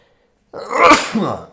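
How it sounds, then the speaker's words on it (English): A single sharp sneeze bursts out after a moment of silence, loud and close, trailing off with a short breathy tail. "I feel a sneeze coming on"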